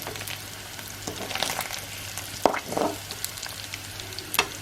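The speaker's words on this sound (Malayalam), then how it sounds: "ഫിഷ് ഫ്രൈ ആണ് കേട്ടോ." Fish deep frying in hot oil at an outdoor riverside cooking spot, a steady soft sizzle with a couple of brief bursts of crackle and utensil contact, fairly quiet and with no talking.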